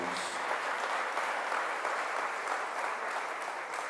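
A church congregation applauds after a scripture reading, a steady, fairly soft wash of many hands clapping throughout.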